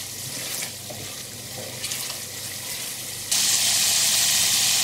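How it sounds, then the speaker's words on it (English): Onion and spices for a Bangladeshi-style fish curry sizzle in oil in a pan while being stirred, a steady close hiss with scraping, which turns louder and brighter near the end. "give the onion and spices a stir."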